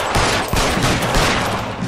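Shotgun blasts in the LA Noire video game roar as a dense, loud burst of gunfire that fills the whole moment.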